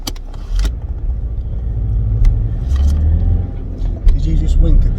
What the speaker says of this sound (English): Drive away when it's safe.